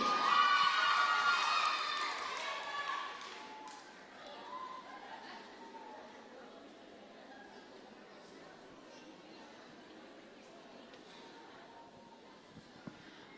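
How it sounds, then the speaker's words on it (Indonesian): Crowd reaction at a mixed adult church choir competition in Ambon, with loud clapping and cheering at the start that fades into scattered applause, chatter and some laughter as people settle down. "Kita berikan tepuk tangan untuk nomor undian 10."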